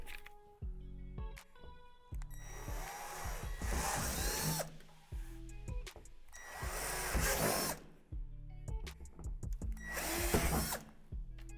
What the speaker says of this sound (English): drill them out with a 3/8 drill bit